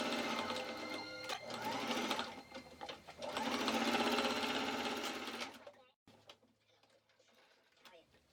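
A sewing machine stitches the side seams of a Victorian 1890-style waistcoat in two steady, whirring runs, then stops abruptly and leaves a quiet room.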